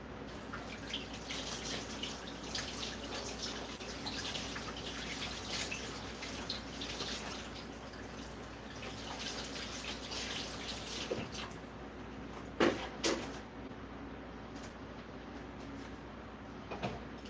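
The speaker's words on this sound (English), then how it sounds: "I'm gonna wash my hands real quick." Tap water runs steadily as hands are washed at a kitchen sink during cooking. The hiss is soft and even, with a couple of brief knocks or splashes near the end, and nothing else is heard.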